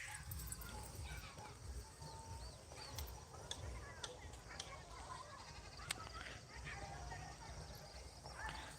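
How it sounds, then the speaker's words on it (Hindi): A goat bleats beside a harvested rice paddy on a farm, with faint animal calls and rustling under steady talk throughout. "बकरी बोल रही है"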